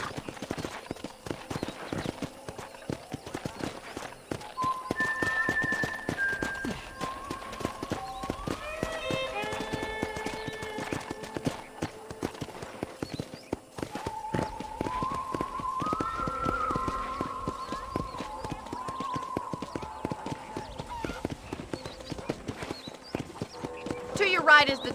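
Horse hooves clip-clop steadily at a walking pace on a ranch in Red Dead Redemption, with a light melodic tune and a voice speaking over the top.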